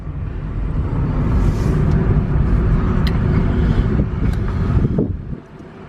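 A cheap $1,000 used electric car spins its tires and burns rubber. A steady, loud roar of tire noise and rushing wind lasts about five seconds, then drops away sharply.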